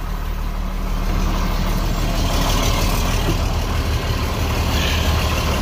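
A rail truck's diesel engine runs steadily just after starting, a loud continuous low rumble with an even idle and no talking over it.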